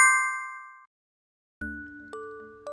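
A bright notification bell dings once and rings out, then after a short silence a few lighter chime tones follow in quick succession.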